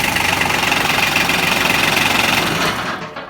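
A John Deere 2210 tractor engine idles close by with a steady, rapid chugging knock after starting, then cuts off near the end, with no talking.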